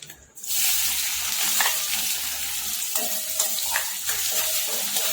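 Chopped onion sautéing in hot oil with cumin and asafoetida for ragda, a loud close sizzle that starts suddenly and keeps hissing, with a few stirring knocks against the pan.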